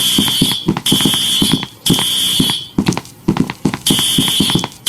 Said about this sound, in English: There's the fire alarm.